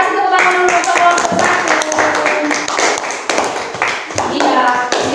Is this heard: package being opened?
no